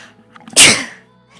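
One sharp, close sneeze bursts out after a couple of quick inhaled catches, then fades into quiet breathing, in a calm indoor setting during a nighttime art stream.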